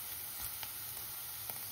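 Tempering oil sizzles steadily and softly in a pan, a continuous hiss with a few faint clicks and pops.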